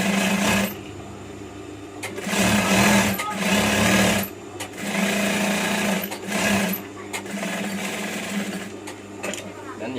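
Sewing machine stitching the collar of a batik shirt, a close mechanical whirring hum that runs in several bursts of a second or two, pausing in between, while a person talks over it.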